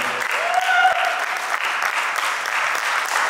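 An audience at a talk on sea buckthorn juice claps steadily, a dense, even patter of many hands at close range, with a brief tonal sound near the start.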